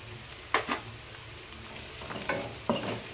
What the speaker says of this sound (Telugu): దోరగా వేంపుకోవాలి ఉల్లిగడ్డలు.